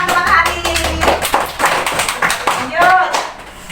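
Classroom applause for a student in a sun costume during a solar system lesson, with scattered taps and claps rising and fading under children's voices and chatter.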